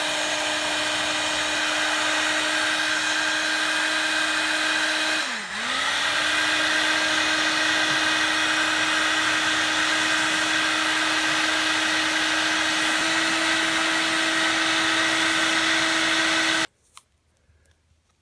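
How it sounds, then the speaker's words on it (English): A heavy-duty heat gun blows hot air with a steady, loud whining hum for about sixteen seconds, dipping briefly once before cutting off abruptly, followed by a small click. "It's kind of like a hair dryer, but a little more heavy duty."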